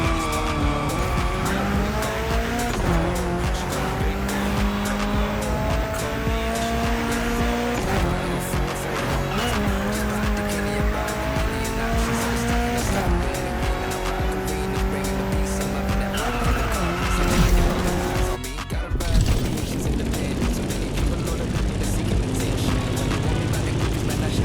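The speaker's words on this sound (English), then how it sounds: "Here you will be driving a Toyota Tacoma, a very popular truck here in Hawaii." A Toyota Tacoma truck driven off-road in Hawaii in The Crew Motorfest racing game: a continuous loud engine roar rising and falling through gear changes, with tire squeals and skids, plus a brief dropout near the end.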